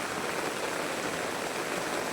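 Rainwater running steadily into a flooded yard during heavy rain, a continuous broadband wash of flowing water that stays even throughout.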